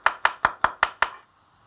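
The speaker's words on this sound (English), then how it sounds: "I'm just going to slice the garlic." A kitchen knife slices a garlic clove on a cutting board: six crisp, evenly spaced strokes, close and clear, then quiet.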